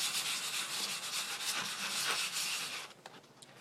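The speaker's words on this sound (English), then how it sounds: "We're just sanding it down here." Coarse 60-grit sandpaper rubbed against a rusty old axe head, a continuous scratchy, gritty rasping in quick back-and-forth strokes, close and fairly faint, easing off near the end.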